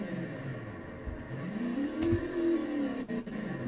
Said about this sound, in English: And the quad bike, again, is quite loud.